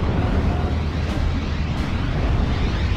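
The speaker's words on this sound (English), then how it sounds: "This Calliope is going to be having another go at the Nebelwerfer." A Calliope rocket launcher barrage in the World War II strategy game Steel Division: Normandy 44 rolls as a dense, continuous roar of overlapping explosions, loud and unbroken for the whole stretch.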